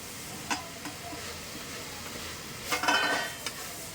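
Green chilies and curry leaves sizzle steadily in hot oil in a pan for beef vindaloo, with a few stirring scrapes and a louder burst of sizzling near the end, close by.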